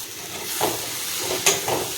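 Boiled bamboo shoot karadi tips into hot masala and oil, setting off a steady sizzle with a few sharp spattering bursts and stirring scrapes, close and fairly loud.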